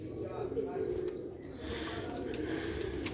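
Lal moti breed pigeons in a cage coo steadily in a low, continuous murmur, close by, with overlapping soft calls throughout.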